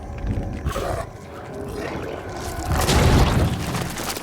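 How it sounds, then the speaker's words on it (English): Corpse explosion from the Diablo 4 Necromancer trailer, a loud booming, roaring blast with a rushing, crackling tail, swelling again after a brief dip, heavy low rumble throughout. "That corpse explosion? Oh, that's awesome."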